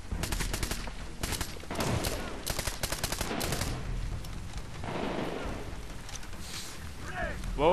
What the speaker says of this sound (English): Whoa, grenade again.